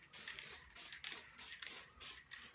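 Spray varnish hissing onto an acrylic abstract painting in short, light back-and-forth bursts, about six even pulses, close and steady with no voices.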